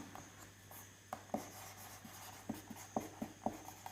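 Chalk writing on a board during a physics lecture, with soft scratchy strokes and sharper taps scattered irregularly over a low room hum, fairly close and without talk.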